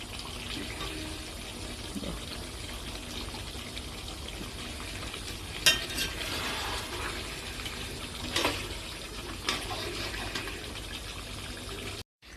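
Meat curry in yogurt and spices simmering in a pan before any water is added, giving a steady close bubbling and sizzling hiss throughout, with a few sharper pops standing out.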